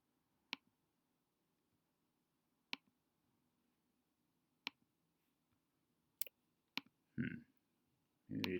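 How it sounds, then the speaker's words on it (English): A computer mouse clicks while shapes are selected in a vector drawing app. Single crisp, quiet clicks come at uneven intervals, followed by a few soft thumps and rustles near the end. "So I'm shift clicking as I go."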